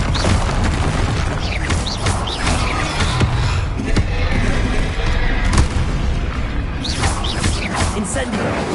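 Confringo explosive spell blasts in Hogwarts Legacy, a dense barrage of booming impacts and crackling bursts, loud and close, overlapping with shouted voices throughout.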